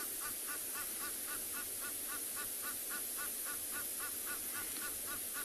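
Fast, rhythmic honking from Egyptian geese carries across calm water at dawn at Tswalu in the Kalahari, a continuous run of regular calls set against steady background hiss, somewhat distant and fairly faint.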